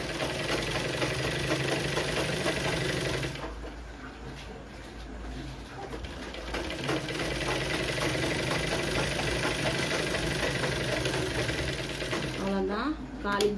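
A sewing machine runs steadily as it stitches a 1/4-inch seam joining a blouse's main piece and lining, its motor hum continuous with a brief slowdown partway through and a voice talking over it.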